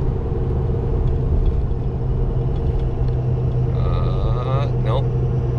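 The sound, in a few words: single rear wheel pickup truck engine hauling heavy load uphill in 5th gear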